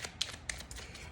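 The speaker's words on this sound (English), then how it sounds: "then I'm just going to shuffle, get the cards" Tarot cards being shuffled by hand, with quick riffling flicks and several sharp taps of cards in an irregular rhythm, fairly close and moderately quiet.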